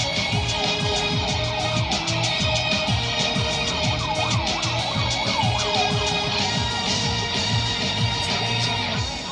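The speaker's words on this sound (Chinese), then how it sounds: "就有那个救护车的声音" An ambulance siren wails past a taxi on a Taipei street near Guangfu Bridge, its rising and falling tone swelling close and then fading, over steady traffic and music playing in the cab.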